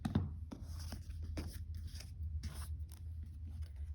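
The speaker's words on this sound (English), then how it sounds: "Cut off our corners." Scissors snipping the corners off a quilt fabric block, a quick series of soft crisp cuts and fabric rustles close by, fairly quiet with no talking.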